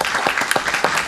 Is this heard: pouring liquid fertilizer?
no